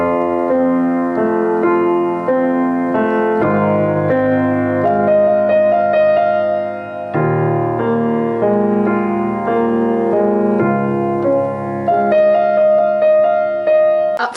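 Piano played with both hands at a slow tempo, working through a section of a song, with steady chords and melody ringing continuously and evenly loud throughout.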